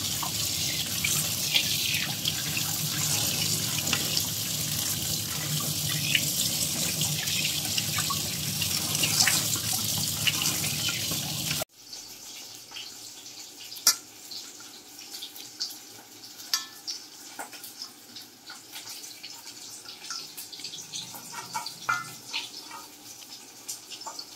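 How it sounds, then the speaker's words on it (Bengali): Prawns are rinsed under a running kitchen tap, a steady close gush of water for about twelve seconds before it cuts off, leaving scattered wet clinks and handling noises. "মাছগুলো এবার পরিষ্কার করে ধুয়ে নিচ্ছি।"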